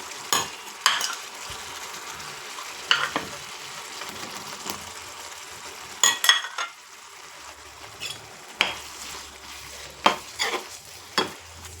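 Fried paneer is tipped into boiling gravy in a pan and stirred, giving a steady low sizzle broken by a dozen sharp scrapes and clacks of the spoon against the pan.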